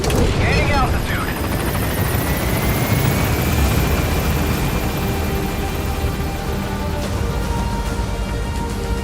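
A helicopter lifts off in Metal Gear Solid V: The Phantom Pain, its rotor wash forming a loud, continuous roaring drone with a rising whine as it gains altitude.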